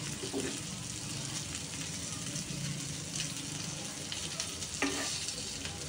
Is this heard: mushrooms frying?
yes